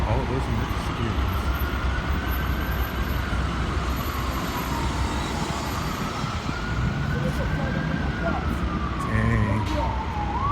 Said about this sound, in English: Look at all of those emergency vehicles.